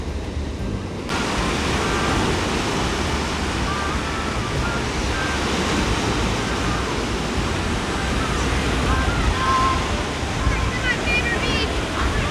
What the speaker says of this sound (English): The waves are crazy